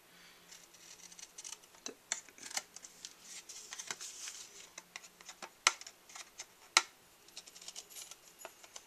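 Scissors snip through a piece of paper card for a handmade mushroom card, a run of quiet, close, irregular cuts and rustles with a few sharper clicks.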